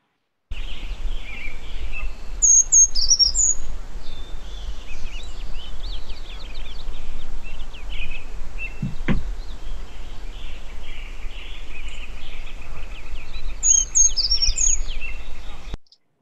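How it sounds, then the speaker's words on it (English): Shrill bird song among Jeffrey pines near a mountain meadow at Big Bear Lake: a few brief high chirps separated by long gaps, against a steady outdoor hiss of insects and ambient noise. "there's a very shrill song that was recorded as it jumped between Jeffrey pines"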